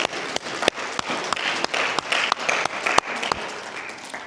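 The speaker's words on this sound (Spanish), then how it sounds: "Vamos a dar un aplauso al Señor," Congregation applause in a church fills the space with dense, steady clapping, punctuated by a few sharp louder claps, fairly close and without talk over it.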